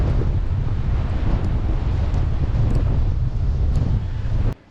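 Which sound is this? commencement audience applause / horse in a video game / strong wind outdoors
strong wind outdoors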